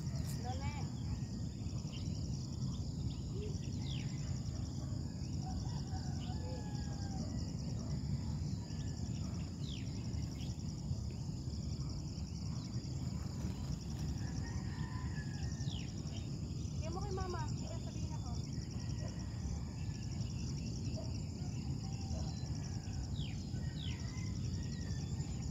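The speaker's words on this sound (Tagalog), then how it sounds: "Ang sarap ng mga huni ng ibon dito." Birds chirp at sunrise among bamboo trees, with scattered short calls over a steady insect drone and a low rumble of background noise.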